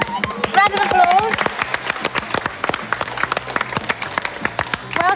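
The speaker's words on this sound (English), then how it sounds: "Round of applause." A studio audience on a game show breaks into lively, sustained applause with a few whoops, while a presenter's voice talks over the clapping.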